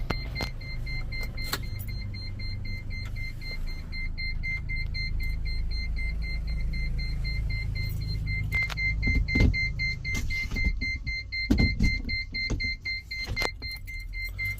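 A steady repeating electronic beep chimes inside a newly bought truck over a low engine idle, with clicks and knocks of the cab scattered throughout.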